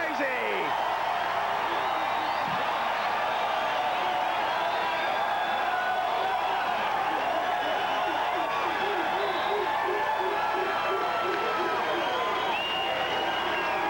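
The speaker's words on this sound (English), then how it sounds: "And the crowd goes crazy!" A packed crowd at a 1990 AVP beach volleyball final in Manhattan erupts in loud sustained cheering and shouting, with a commentator talking excitedly over the din.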